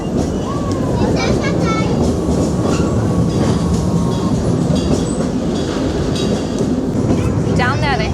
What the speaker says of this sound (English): I always love doing the train.